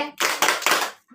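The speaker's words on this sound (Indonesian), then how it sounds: "Tepuk salut buat adik berdua ala Bejawa" Children performing a rhythmic Bajawa-style salute clap at a church gathering, three loud, close bursts of clapping in quick succession, with a brief voice at the start and end.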